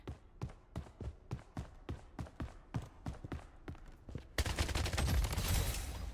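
Gunfire in a battle-royale style video game, a rapid series of sharp evenly spaced shots at close range, followed by a denser burst of loud rattling fire and noisy action.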